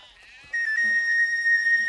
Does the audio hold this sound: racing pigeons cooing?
no